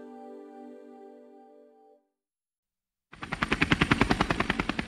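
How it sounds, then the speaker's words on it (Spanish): An air ambulance helicopter, its rotor chopping in a fast, steady pulsing beat that comes in suddenly and loudly after a pause, following a held musical tone. "el más completo y avanzado servicio de ambulancia aérea en helicóptero en nuestro país"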